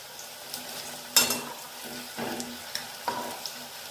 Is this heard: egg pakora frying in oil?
yes